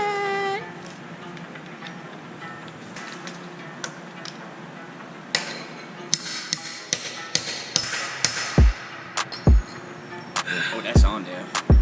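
A lug nut extractor is hammered onto a stripped wheel nut while changing a flat tire: sharp metallic strikes, close and loud, arriving sporadically and then more often, over a faint background hum.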